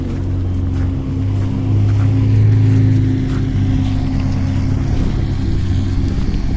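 A vehicle's engine rumbles steadily outside, a low continuous drone that swells slightly midway as it drives past, with no talk over it.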